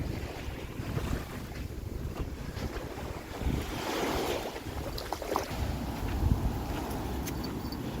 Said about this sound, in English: The ambient sounds of the ocean and my squeaky slippers.